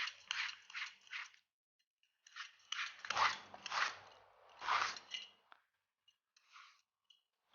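A vegetable peeler digs into raw zucchini in a series of crisp, scraping strokes, several close bursts separated by short pauses, with no talking.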